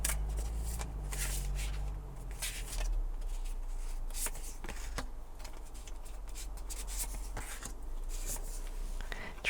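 Tarot cards shuffled steadily and close by for the whole stretch, a soft continuous riffling and rubbing with occasional sharper flicks of card edges.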